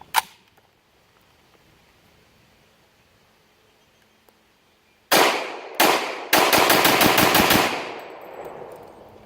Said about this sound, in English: when I shoot it this time, watch how the gun oscillates